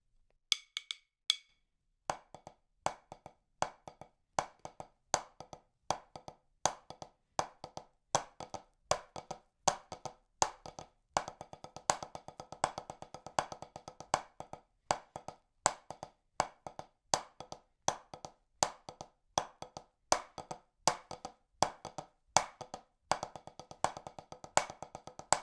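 Split paradiddle rudiment played on drums with drumsticks: a steady stream of sharp, close stick hits with doubled and unison strokes, played alone throughout.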